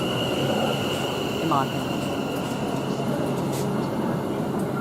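A Class 730 electric train idles or moves at Watford Junction station on the West Coast Main Line, with a steady rumble, a high whine and a brief squeal, while someone speaks over it.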